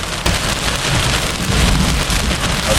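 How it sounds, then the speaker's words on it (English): Heavy rain pours down hard and continuously in a Florida thunderstorm, a loud dense hiss with a low rumbling undertone throughout. "There's some heavy rain just in front of me."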